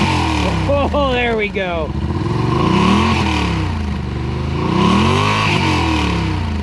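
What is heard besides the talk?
Yamaha RMAX engine revving on stock exhaust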